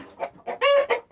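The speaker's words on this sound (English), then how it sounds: "He's a good rooster. He's an Ohio Buckeye Red." An Ohio Buckeye Red heritage rooster and hens cluck in a short run of close, loud bursts, with one drawn-out tonal call in the middle standing out among the choppy clucks.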